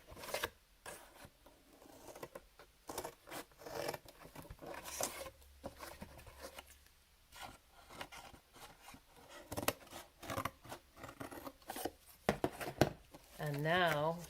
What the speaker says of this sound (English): Go all around and cut each corner like so.